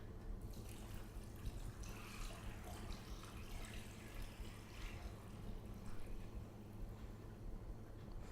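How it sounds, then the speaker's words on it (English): Steady rush of water pouring and splashing into a pot of beef bones for broth, continuous for several seconds, fairly quiet and close, with no talking. "and you would cover it with water."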